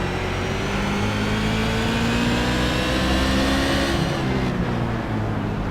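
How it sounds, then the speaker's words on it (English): A modified race car at Martinsville Speedway roars continuously as the driver works the throttle through the turns, engine note rising and falling, with the pitch dropping near the end; no talk is heard. "Definitely hear how these guys have to work the throttle brakes."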